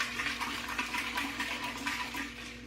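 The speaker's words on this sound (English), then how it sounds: "Put 8 cups of water in it now" Water pours steadily from a pitcher into a cooking pot for baked beans, a continuous close splashing fill with no talk over it.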